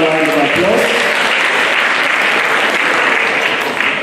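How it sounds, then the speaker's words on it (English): An audience at an entrepreneurship event claps loudly and continuously, a dense, even wash of applause from a sizable crowd lasting throughout. "Can we please give him a bigger round of applause?"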